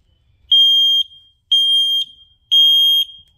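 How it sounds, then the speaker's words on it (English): Smoke alarm sounding during a test, three loud piercing electronic beeps of about half a second each, evenly spaced one second apart, close and with no talking. "we put one person to stop the alarm"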